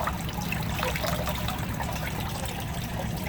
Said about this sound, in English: so I'm going to remove some of the water.